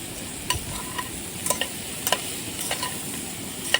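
Pork with mustard leaves, tomato and potato being stirred in a pan, a soft sizzle broken by several sharp scrapes and clacks of the utensil at irregular intervals, close and fairly quiet, with no voices.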